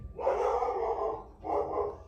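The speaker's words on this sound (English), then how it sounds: "Sorry about that, the dog was barking." A dog barking indoors, two drawn-out barks close to the microphone, the first longer and the second shorter after a brief pause, with no talk over them.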